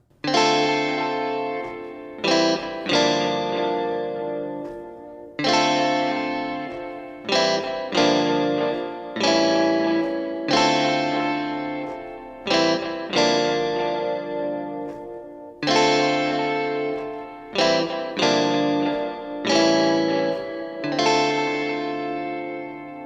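Strummed chords played through chorus and echo effects, a repeating progression of ringing, shimmering strums, each chord sustaining before the next, with no voices.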